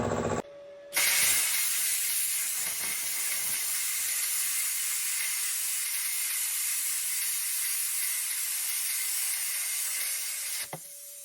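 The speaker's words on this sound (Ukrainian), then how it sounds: "пробувати різати плазморізом метал вісмірка" A cheap plasma cutter slices through 8 mm steel plate with a steady, loud hiss that holds for about ten seconds after a brief start, then cuts off sharply at the end.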